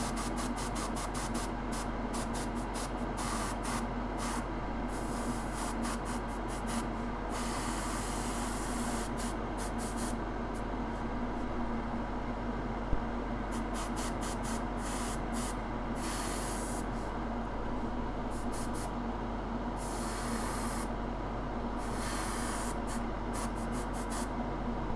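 Spray paint hissing in thin coats onto a Custodes miniature, close and steady, in short bursts broken by brief pauses, the hiss running loud and continuous through the middle.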